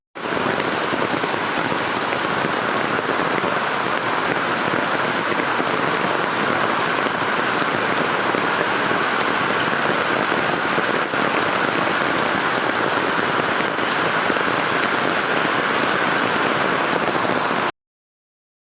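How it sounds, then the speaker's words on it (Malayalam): Heavy rain pours steadily onto surfaces, a dense, even roar of drops that holds at constant loudness throughout with no voices. "അപ്പോഴത്തേനങ്ങ് ഭയങ്കരമായിട്ട് മഴ പെയ്യുന്നുണ്ട്"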